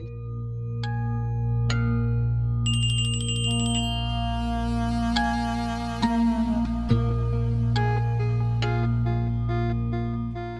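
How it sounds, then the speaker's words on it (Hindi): A mobile phone rings with a repeating chime-like melody, bright bell tones recurring over a steady, sustained musical drone, fairly loud and close, with no talking. "बार बार फोन पे फोन किए जा रहा है।"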